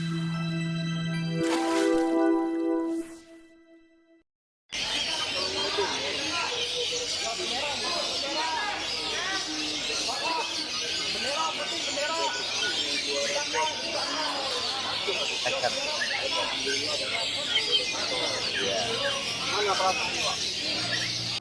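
A kacer (oriental magpie-robin) songbird sings in a contest, a brief clear harmonic whistle first, then after a pause a dense, loud wash of chirps and calls from many competing birds with crowd noise underneath.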